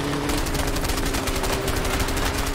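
Rapid automatic gunfire in the video game A Way Out, a dense continuous burst of shots filling the whole moment with steady loud crackle and no pause.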